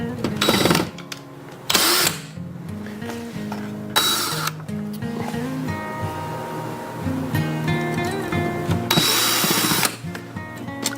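A power tool removes a light switch faceplate, sounding as several short, loud whirring bursts of a small cordless driver separated by quieter stretches with clinks and handling noise.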